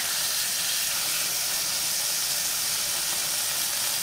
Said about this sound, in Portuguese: Então vamos selar essa carne aqui e nós vamos voltar colocando todos os pedaços.